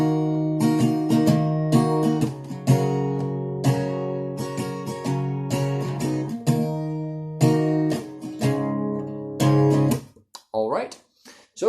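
Acoustic guitar strumming the bridge chords of a song, moving through full-measure chord changes with steady rhythmic strums, close and fairly loud, ending in a brief slide and pause.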